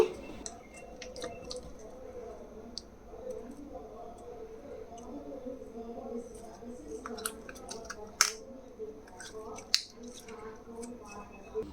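An orange slime toy is pressed and squeezed close up, giving soft sticky squelches and small wet pops with a few sharper clicks, faint and intermittent, while a voice speaks quietly in the background.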